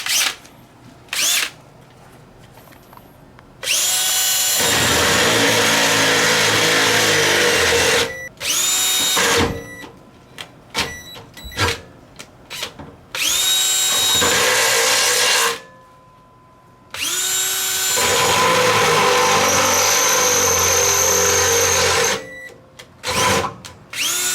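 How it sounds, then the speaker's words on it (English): A power drill with a sharp bit whines loudly in three long bursts, biting steadily into material during a trailer hitch install on a 1992-2008 Ford Panther-platform car, with short pauses and small clicks and handling noises between runs. "Gotta love nice sharp drill bits."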